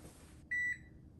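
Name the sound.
kitchen timer beeping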